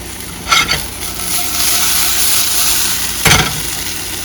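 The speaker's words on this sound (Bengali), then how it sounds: "এদিকে একটু ঢ্যাঁড়স ভাজা বানাচ্ছি" Okra frying in a home kitchen pan, a steady close sizzle with two brief louder bursts of stirring or scraping, one near the start and one near the end.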